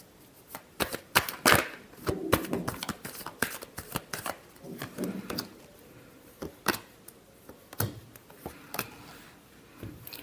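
Tarot cards are shuffled by hand in repeated sharp riffles and taps, close and crisp, in irregular bursts with short pauses and no speech.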